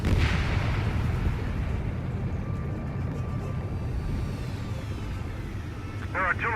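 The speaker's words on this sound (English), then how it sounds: "Their artillery fire just missed us off our starboard side." Heavy artillery fire booms in the Ace Combat 7 video game, a continuous rumbling barrage of low blasts and rolling explosions, with brief radio-style speech near the end.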